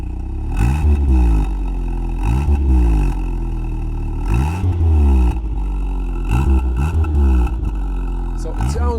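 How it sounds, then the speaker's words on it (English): A 1991 VW Golf 2 with a 1.8 litre 90 HP petrol engine revving repeatedly in short bursts, recorded near the exhaust, rising and falling in pitch, loud and close, with a steady idle between revs. "jump to the driver's seat and rev it a little bit"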